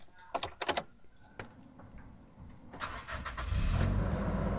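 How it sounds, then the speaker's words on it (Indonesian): A 2017 Toyota Innova Reborn 2.0 G Lux, parked, has its door handled with a few sharp clicks before the engine cranks and catches, settling into a low, steady idle close by. "dari suara mesinnya kita bisa mendengarkan dan mendeteksi bahwa Innova yang satu ini memang rawatan"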